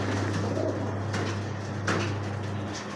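Pure-bred breeder pigeons coo softly in a loft, producing low repeated coos under a steady hum, with a few faint clicks and rustles.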